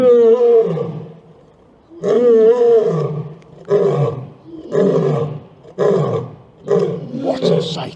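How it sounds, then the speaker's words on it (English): A lion roars in a series of loud, deep, rumbling bursts, about six in eight seconds, each separated by a short pause, the later ones coming quicker and rougher. "Oh, look at there's the lion."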